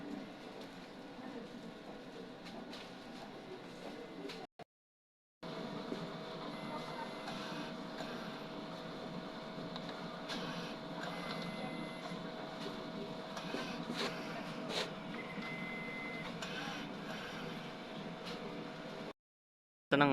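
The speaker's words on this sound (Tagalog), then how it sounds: "Ito ang aming machine na XP600. Ang aming printer head." An XP600 DTF printer runs steadily with a constant mechanical hum, steady tones and faint whirring, broken by two short silent gaps.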